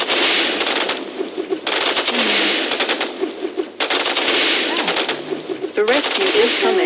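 Strafing gunfire in a combat video game, loud sustained bursts of rapid machine-gun fire broken by brief pauses, dense and close across the whole clip.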